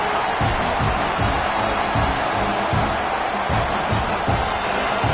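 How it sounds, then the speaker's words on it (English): Football stadium crowd rising in noise to back the defense near the goal line, a thick sustained roar with rhythmic pulses that sound like chanting or stomping throughout. "this crowd coming to life here trying to help the defense get a stop"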